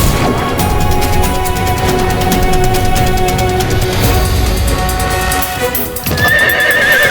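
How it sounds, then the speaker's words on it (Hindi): A horse neighs loudly while hooves clip-clop steadily throughout, dense and close, with a brief dip near the end before the sound swells again. "वो रहा अश्व।"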